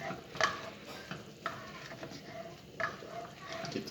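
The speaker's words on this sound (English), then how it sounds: "Stir it up in there." Sour cream being stirred into a tuna casserole sauce in a pan, with soft scraping strokes and light sizzling that rise into several distinct scrapes, all fairly quiet.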